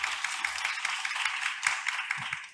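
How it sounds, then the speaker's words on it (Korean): Audience applause opening a startup talk concert at a world knowledge forum event, a steady dense wash of many hands clapping throughout. "그럼 박수와 함께 시작해 보겠습니다."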